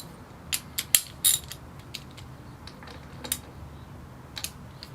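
Cap screws being snugged down with a ratchet on a Talaria R supermoto wheel, holding plastic parts: a few faint, quick clicking bursts at irregular intervals against a quiet background.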